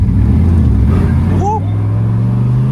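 Turbocharged LS-powered Camaro with a six-speed, accelerating in first gear outdoors: a loud, steady low engine drone that climbs slightly in pitch, with a brief high chirp midway.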